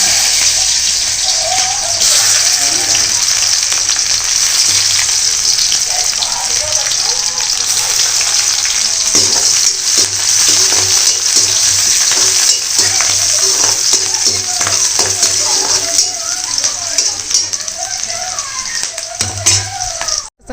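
Dal and vegetables cooking on a home stove: steady sizzling and bubbling throughout, close and fairly loud, with a person talking over it at times.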